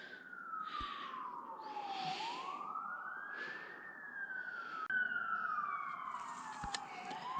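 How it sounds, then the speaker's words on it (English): A siren on a highway wails up and down in long sweeping tones, clear but at some distance, over steady road rumble with a couple of sharp knocks. "there's a siren down on the highway. That sounds loud."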